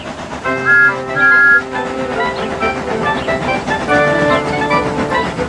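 Several steam whistle blasts, long sustained tones with a few shorter hoots, sounding over a steady rumbling background.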